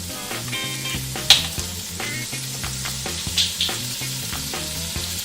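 Oxtail meat in butter and olive oil sizzles steadily in a pan, a constant crackling fry with a few sharper pops and stirring clatters over a low kitchen hum.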